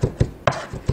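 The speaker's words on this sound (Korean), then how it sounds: "모아가면서 고기를 곱게 다지겠습니다." Raw meat being minced with a knife on a cutting board, five sharp chopping knocks at an uneven, quick rhythm, close and clear with no voices.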